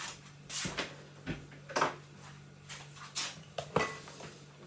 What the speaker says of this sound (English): I'm going to move my steamer out the way because I've finished with that.